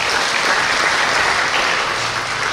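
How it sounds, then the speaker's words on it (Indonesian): An audience at a Dhamma talk applauds in a short, even burst, with thick, steady clapping throughout. "Tepuk tangan."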